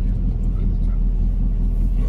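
A vintage VW Bulli van with a 2-litre exchange engine drives through vineyard country, its engine giving a steady, close, low rumbling drone that holds evenly the whole time.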